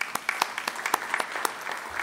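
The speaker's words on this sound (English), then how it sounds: "Another round of applause for" A church congregation gives sparse, faint applause for 2020 graduates, scattered individual claps spaced irregularly over a quiet room without talk.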